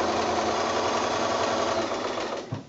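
A sewing machine stitches quilt binding near a corner, running in a steady continuous whir close by before slowing and stopping at the very end.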